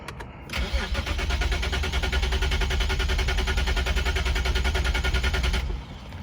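A car fitted with a larger fuel pump for E85 fuel cranks on its starter in a steady, rapid chugging for about five seconds without catching, then falls silent. The sound is close and fairly loud, with no talking.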